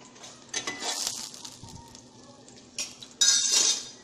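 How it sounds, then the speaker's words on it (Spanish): Onion and a garlic clove fry in hot oil, giving a soft sizzle broken by louder bursts of hissing and metallic clinks of a utensil against the pan, all close by. "aquí ya le agregué el pedazo de cebolla y un dientito de ajo para que se dore"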